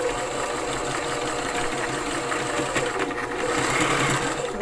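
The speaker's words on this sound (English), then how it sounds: "I'm going to start sewing." Close and steady, a sewing machine stitches fabric in a continuous rapid mechanical whirr and patter with no pauses.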